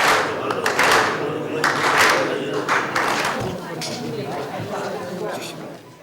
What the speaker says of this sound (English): senior monks offer prayers, among rituals being the clapping of hands